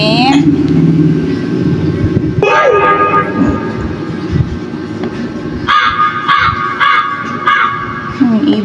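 Bird call sound effects played through a V8 condenser microphone setup, several short chirping bursts in a row with loud background music and voices underneath.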